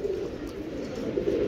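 Female racing pigeons coo steadily in a loft, a low, continuous murmur of overlapping calls with no speech.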